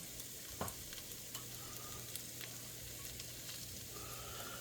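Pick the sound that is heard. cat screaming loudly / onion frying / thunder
onion frying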